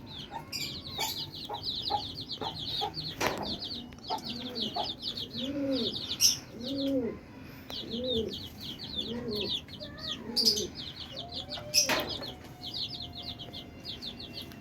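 Rhode Island chickens in a backyard poultry pen cluck and chirp steadily, with repeated close, drawn-out clucks over a bed of quick, bright chirps from other birds.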